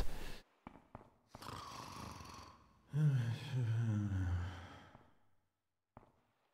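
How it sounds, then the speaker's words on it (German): A sleeping character in The Sims 2 gives breathy, rasping snores with sighing exhales, heard in separate bursts at close range and then fading into quiet. "Ich glaube, ich höre ein Schnarchen."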